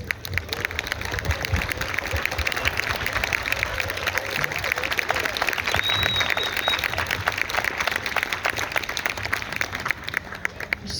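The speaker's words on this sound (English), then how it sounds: "Can we get a round of applause real quick for our sponsors" An audience at a high school pops concert applauds, a steady dense patter of many hands clapping that holds at an even level throughout without talk.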